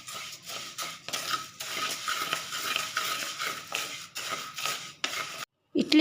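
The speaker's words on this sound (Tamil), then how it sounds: "நம்ம எடுத்து வச்ச அரிசியை போட்டு வறுத்தரலாம்" Rice dry-roasting in a pan for idli podi, with steady scraping and stirring against the metal and light rattling grains, close and continuous, then a brief pause near the end.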